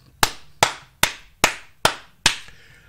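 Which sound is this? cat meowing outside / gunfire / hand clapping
hand clapping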